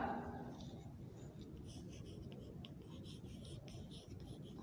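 Faint scratching of writing on a board during a grade 4 science lesson, soft irregular strokes over a quiet room hiss, with no voices.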